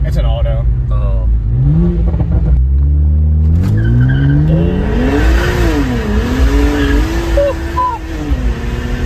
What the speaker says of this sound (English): We're just gonna blow the tires off